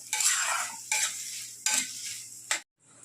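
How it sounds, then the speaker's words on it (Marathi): Chopped onion sautéing in a pan for pav bhaji, stirred in four scraping, sizzling strokes with a spoon, close and fairly quiet, with a faint hum beneath. "आता दोन मिनटं जरा कांदा आपण परतून घेऊया"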